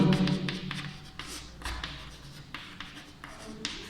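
A definition of a dihybrid cross is written out during a biology lesson, with close, steady scratching strokes broken by small taps and brief lifts, and no talking.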